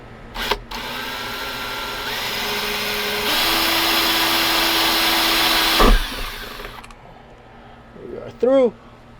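Power drill boring a pilot hole through the body of a van, a sustained whirring drone that rises in pitch midway and then cuts off, followed by a short spoken word.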